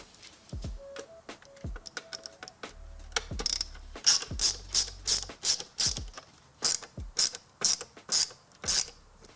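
A ratchet clicks in quick bursts while backing out the T15 screws on a 2019 Silverado mirror, giving crisp, close, rhythmic pawl clicks that repeat about a dozen times, with a few faint handling knocks before them.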